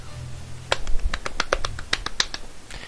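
A quick burst of excited hand claps serves as a sound effect in the Katawa Shoujo visual novel: about a dozen crisp, close, rapid claps in an uneven rhythm, heard alone.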